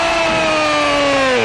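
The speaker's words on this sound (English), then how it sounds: "Listen to the crowd get behind Sabu." Wrestling crowd roaring behind Sabu during a ladder match, a loud, sustained wall of cheering and chanting voices rising together, with no clear speech over it.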